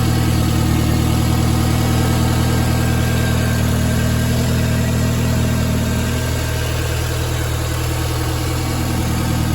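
A car engine with a failing alternator idles steadily and close by, a continuous mid-low drone that holds level throughout with a slight shift in tone partway through; no one speaks.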